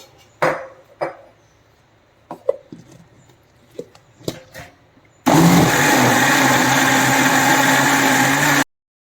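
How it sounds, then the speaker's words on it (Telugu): A few clicks and knocks, then a mixer grinder blending bread dosa batter with water whirs loudly and steadily for about three seconds before cutting off. "ఇప్పుడు మిక్సీ పట్టుకుందాం"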